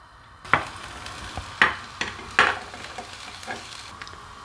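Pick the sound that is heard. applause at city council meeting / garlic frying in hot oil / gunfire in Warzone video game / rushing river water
garlic frying in hot oil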